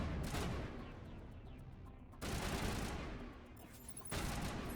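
Sustained rapid gunfire in the video game Mass Effect Legendary Edition, a harsh continuous crackle of automatic weapons that surges in two bursts, fairly quiet overall.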